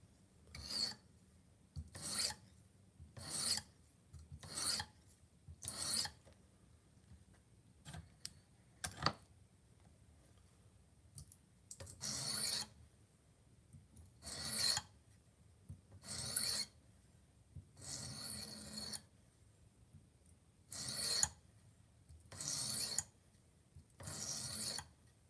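A kitchen knife such as a Wusthof, Hampton or Farberware blade is drawn repeatedly across a sharpener, each rasping stroke coming in quick bursts with short pauses between them, close and fairly quiet with no voices.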